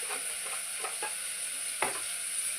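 Besan (gram flour) batter being stirred in a bowl, with soft scraping strokes over a steady background hiss and one sharper clack near the end.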